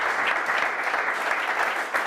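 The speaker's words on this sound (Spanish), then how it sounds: "sobre todo otro aplauso" A dense, steady wash of applause from a crowd, many hands clapping together at an even level throughout, fairly close and full.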